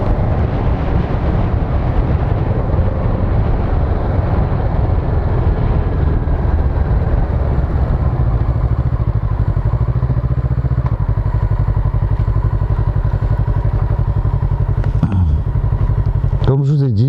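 Kawasaki Z650RS motorcycle on the move: a loud, steady low engine drone blended with heavy wind rush fills the whole stretch, with a couple of brief rising and falling revs near the end.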